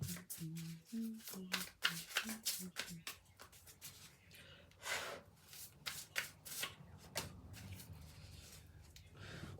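A Shaman's Dream oracle deck is shuffled by hand in quick, crisp riffling bursts up close, followed by softer card handling, with a voice briefly present.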